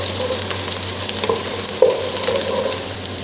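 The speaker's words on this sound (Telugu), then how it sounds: "ఇది కాస్త పచ్చివాసన పోయేంత వరకు వేపాలండి" Sliced onions and grated garlic frying in a pan, a continuous sizzle with a few sharp scrapes and clinks of a spoon stirring against the metal, close and moderately loud.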